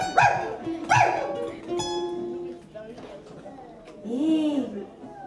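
A dog leaps back barking wildly: two loud, sharp barks close together, then whining yelps, with voices in the scene.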